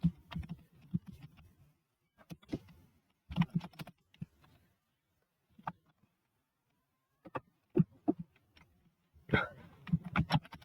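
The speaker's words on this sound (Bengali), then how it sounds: "তো সার্চ বারে আমরা লিখবো হচ্ছে ফ্রিল্যান্সিং লার্নিং" Someone types a search phrase on a computer keyboard, scattered bursts of soft, close key clicks separated by quiet pauses, with no talking.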